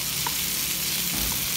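Chicken breast marinated with black pepper, salt and paprika fries in a pan, giving a steady, close sizzle with a couple of faint crackles and no talking.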